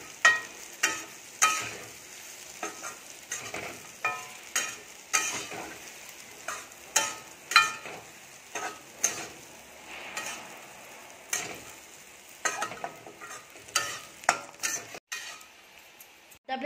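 Crushed peanuts are stirred into fried chillies in a pan, with a steady run of rhythmic spatula scrapes and knocks against the metal over a soft sizzle, close and fairly loud.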